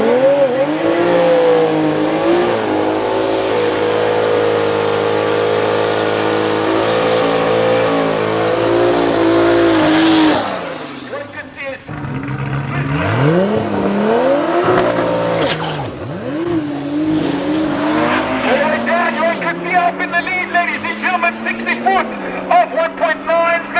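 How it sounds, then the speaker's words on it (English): Audi S3 drag racing at Tarlton International Raceway, with a loud engine revving and roaring as the car launches and accelerates, a brief drop, then more engine noise, alongside a commentator's voice. "We've got Johan Kutsia going up against the Audi S3"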